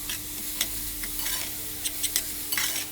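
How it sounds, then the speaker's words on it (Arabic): Vegetables seasoned with salt, pepper, cumin and chili being stirred in a pan, a constant sizzle punctuated by brief scraping and tapping strokes of a utensil, close-up. "نقلب تقليبه كويسه"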